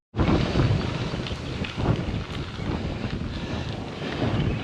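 Strong wind roars continuously against the microphone during a bike ride along the Rock Island Spur and Katy Trail, a loud steady buffeting rush with no voices.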